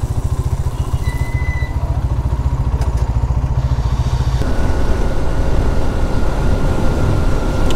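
A Hero Thriller 160 4V motorcycle riding on a highway service road, its engine a loud, close, rapid rhythmic throb under rushing wind, the tone shifting as the rider changes speed partway through.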